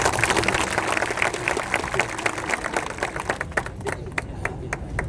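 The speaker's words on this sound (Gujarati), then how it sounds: "કેશવભાઈ માટે જોરદાર તાળી પાડો" A crowd at an Adivasi community stage gathering claps steadily for a guest speaker, dense continuous clapping that thins slightly toward the end.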